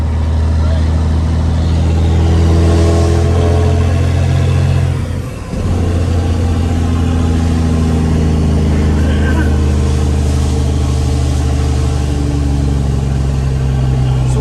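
An original Cat engine in a 1987 Peterbilt cabover truck revs loud and close with a deep, steady low drone, briefly dips in the middle, then settles back into a sustained heavy rumble.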